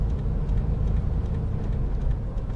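A 1984 Dodge Ramcharger with its original carburetor drives along an industrial park road, its engine a steady low rumble close up from inside the cab, with no voices heard.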